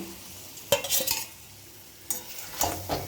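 Fried prawns go into a jackfruit curry sizzling in a pan, with a few scrapes and knocks of a spatula as it is stirred, separated by a quieter stretch of gentle frying.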